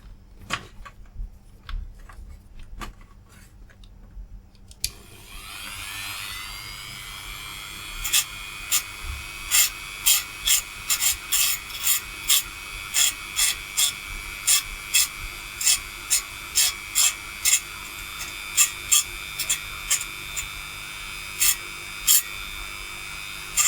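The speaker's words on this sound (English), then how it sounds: "Let me scrape away a little bit more." Scraping of the coating off a burnt, open-circuit unmarked resistor: after a quiet start, a steady rasping rub runs on with a rapid series of sharp, close ticking scratches repeating through the rest.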